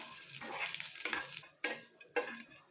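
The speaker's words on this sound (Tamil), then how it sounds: "எண்ணெயிலேயே பூண்டு நல்லா வதங்கி வரட்டும்" Garlic cloves frying in oil in a pan while cooking a spinach dish, a soft continuous sizzle broken by a few stirring scrapes and sharper clicks, close and fairly quiet.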